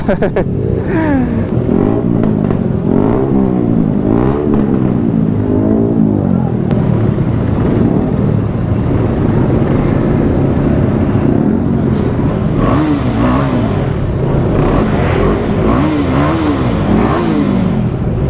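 At a bikers' event at Mantri Mall in Bengaluru, a superbike's exhaust blares through several loud revving bursts, rising and dropping in pitch, close by amid crowd chatter and other engine noise.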